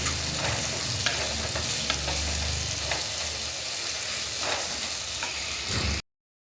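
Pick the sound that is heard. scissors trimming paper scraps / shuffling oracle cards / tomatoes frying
tomatoes frying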